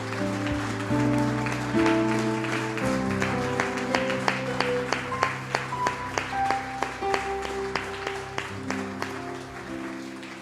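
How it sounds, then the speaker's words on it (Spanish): A church congregation claps rhythmically over sustained organ or keyboard chords, with distinct beats sharpening in the later half as the music continues. "Dale un aplauso al Señor,"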